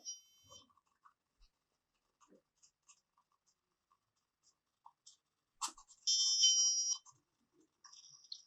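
A radar project's electronic buzzer sounds a loud, shrill tone for about a second as it detects an object, surrounded by faint short beeps and clicks in an otherwise quiet room.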